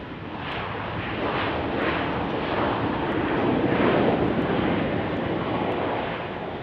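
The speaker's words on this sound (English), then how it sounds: "On the ground from Orlando, Airbus A321." An Airbus A321 from Orlando rolls on the ground at Salt Lake City at night, its engine roar swelling gradually and easing off again with no talk.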